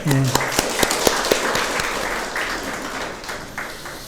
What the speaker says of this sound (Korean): 우리 다시 한번 큰 박수로.